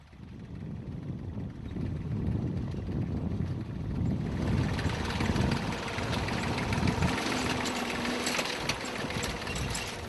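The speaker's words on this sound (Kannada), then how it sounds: "ಆ ಟ್ರ್ಯಾಕ್ಟರ್ಗೆ ಟೈರ್ ಬದಲಿಗೆ ಕಬ್ಬಿಣದ ಚಕ್ರಗಳನ್ನು ಅಳವಡಿಸಲಾಗಿದೆ" A tractor fitted with iron wheels in place of tyres runs its engine in a crop field, a rough, steady drone that grows noticeably louder and fuller partway through and then holds.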